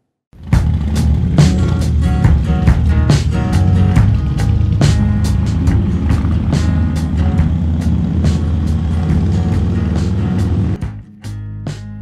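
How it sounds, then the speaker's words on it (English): A 2001 Harley-Davidson 883 Sportster being ridden on the road, its engine droning loud and steady with a rumbling, throbbing tone before cutting off abruptly near the end. "I'm going to be riding there on my 2001 883 Sportster"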